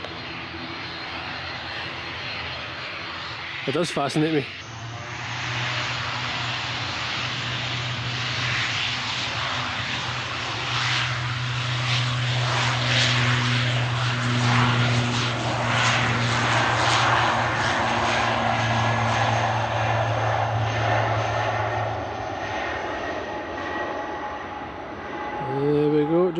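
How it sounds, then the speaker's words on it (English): Aer Lingus airliner taking off at Glasgow Airport, its jet engines building to a loud sustained roar heard from behind a fence, with someone speaking briefly over it near the start. "I'm just watching this plane."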